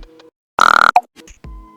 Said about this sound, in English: And then I just teased the bird sound here